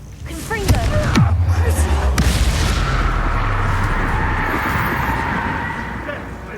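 Booming magical blasts of the Confringo fire spell in the video game Hogwarts Legacy, with two deep impacts close together early on, then a long rumbling roar that slowly fades under steady game ambience.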